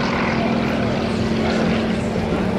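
A jet or propeller aircraft, an F4U Corsair or Super Hornet, roars steadily at a Naval Air Station Oceana airshow, a loud, continuous drone filling the whole moment.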